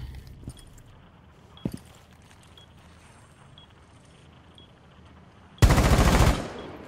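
A loud burst of rapid automatic gunfire in a Rainbow Six Siege match lasts under a second, following a quiet stretch with a couple of faint clicks and thuds.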